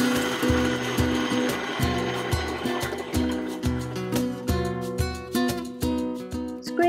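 An electric mixer beats coffee cake batter as flour is added, whirring close by in uneven pulses with the motor surging and easing.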